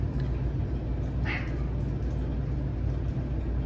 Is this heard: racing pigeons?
no